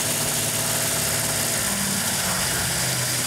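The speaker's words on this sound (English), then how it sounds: "That's a good idle right there for right now" A freshly broken-in engine in a Plymouth Cuda idles slightly high, a close, dense rumble with steady low pulsing and no one talking.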